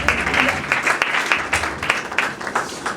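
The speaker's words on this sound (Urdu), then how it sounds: "شاباش آپ کے لیے تالیاں" Audience applause during a gospel preaching service, uneven bursts of clapping that swell and fade with sharp individual claps standing out, fairly close and loud.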